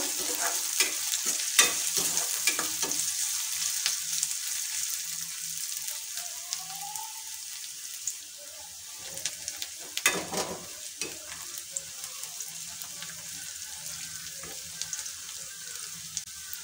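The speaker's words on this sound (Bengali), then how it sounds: "দিয়ে দিচ্ছি আমি রসুন কুচি, আদা বাটা আর কাঁচা লঙ্কা কুচি। আবারও কিছুক্ষণ ভেজে নেব।" Chopped garlic, ginger paste and green chili fry in a pan with a soft sizzle, while repeated sharp clicks and scrapes from a stirring spoon come and go.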